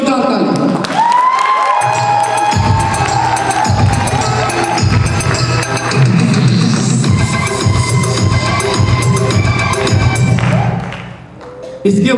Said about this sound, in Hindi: मैं चाहूंगा कि हमारे डॉक्टर एस.के. भारती सर के लिए एक जोरदार ताली।